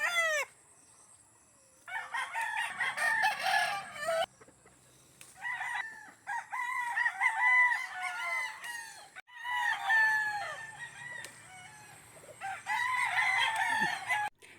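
Chickens on a farm, including a rooster, crow and cluck repeatedly at close range. Several loud overlapping bursts alternate with brief quieter gaps, and faint background noise runs underneath.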